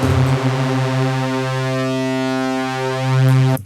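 A PolyMAX analog synthesizer in mono mode holds a single sustained, buzzy tone, loud and steady. It swells slightly near the end before cutting off, with no talking over it.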